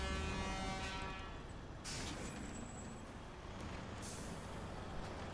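A truck engine idles in the video game SnowRunner with a steady low rumble, broken by two short hissing bursts of air; no one speaks.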